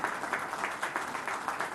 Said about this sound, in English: Can we have a round of applause, ladies and gentlemen? Please put your hands together.